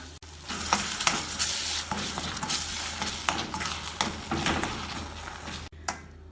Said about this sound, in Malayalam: ഇതിലേക്ക് 1/4 ടീസ്പൂൺ മഞ്ഞൾപ്പൊടിയും കൂടെ ചേർത്ത് 1-2 മിനിറ്റ് ഇളക്കി വഴറ്റാം